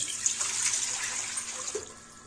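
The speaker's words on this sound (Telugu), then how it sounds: "ఇడ్లీ పాత్ర తీసుకొని వాటర్ వేసుకోండి" Water splashes and pours into a deep idli steaming pot, a short close trickle and gush at moderate loudness.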